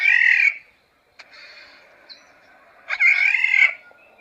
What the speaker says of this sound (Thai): น่าจะเป็นนกขี้มินนะ